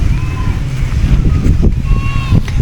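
Sea water sloshing and washing at high tide on Diniwid Beach, Boracay, a steady close wash with wind buffeting the microphone and faint voices in the background.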